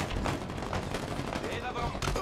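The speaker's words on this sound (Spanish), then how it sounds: "¡Me están disparando!" A brief, dense volley of video game gunfire aimed at the player rattles steadily, close and continuous, with a voice audible over the shots.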